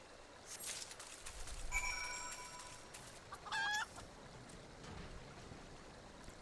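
A chicken companion in Final Fantasy XIV clucks in a few short bursts over a steady, stream-like game ambience, with no talking.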